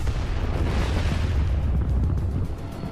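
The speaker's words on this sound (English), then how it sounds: "The heated thermal trap explodes and shoots in all directions." A heavy, sustained explosive roar as a tank's heated thermal trap detonates and bursts in all directions, loud and rumbling throughout with dense low-end boom and no voices.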